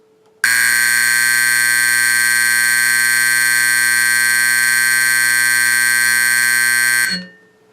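A Faraday 5410 fire alarm horn under test blares one continuous, extremely loud, harsh buzzing tone for about seven seconds, then cuts off abruptly, with no voices.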